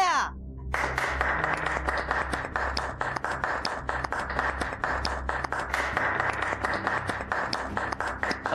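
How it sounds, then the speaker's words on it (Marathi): Audience applause at a Kamat Foods company function in a Marathi TV drama, bursting in after a brief quiet and continuing as dense, sustained clapping from many hands. "टाळ्या."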